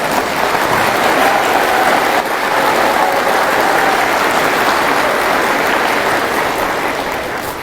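Sustained applause from a large audience at a religious talk, dense, loud and even, with hands clapping continuously for several seconds and no voices over it.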